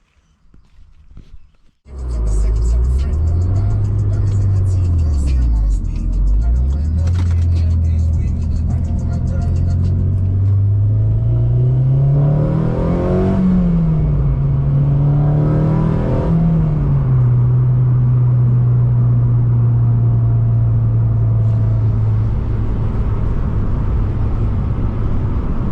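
A 2006 Honda Civic Si with a short shifter out on a test drive, its engine droning loud and close as the pitch rises and falls through gear changes, with steady road rumble underneath.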